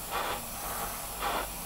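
An airbrush sprays paint onto a model kit in two short hissing bursts about a second apart, each loud and close, over a steady background hiss.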